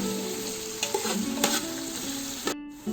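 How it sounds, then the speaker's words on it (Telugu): Sliced onions sizzle steadily in hot oil for Ambur-style chicken biryani, with stirring clatter and a few spoon scrapes against the pan, close and continuous with no talking. "ఉల్లిపాయ ముక్కలు మనకి 2 minutes ఫ్రై చేసుకున్నాము."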